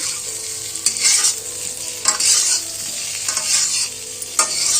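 Curry spices are stirred and fried in a pan with steady scraping strokes over a constant sizzle. The stirring comes in regular bursts and sounds close and fairly loud, with no voices.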